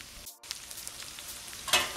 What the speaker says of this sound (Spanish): Vamos a dejar que se termine de freír